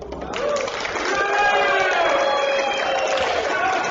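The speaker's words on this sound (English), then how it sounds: "Let the crowd applaud." Spectators at a 9-ball pool match in the Derby City Classic cheer and applaud, a loud, steady wash of crowd noise with clapping and voices that swells and holds for several seconds.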